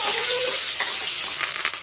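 Onions, garlic and tempering spices fry in a pan with a loud, close sizzle, a short whistling tone early on and stirring clatter toward the end, no speech.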